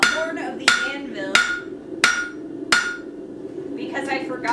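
A hammer strikes a knife on the horn of an anvil in five sharp metallic blows at uneven intervals, each ringing briefly, with faint workshop noise between strikes.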